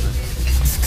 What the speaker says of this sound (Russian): Полирую маховики корзины от ржавчины.